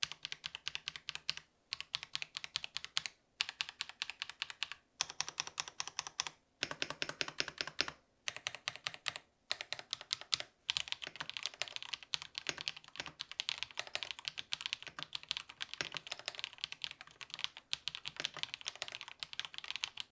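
A cheap mechanical keyboard with loose, factory-lubed stabilizers rattling in the plate, typed on in fast continuous bursts of clacky keystrokes with short pauses, close and alone.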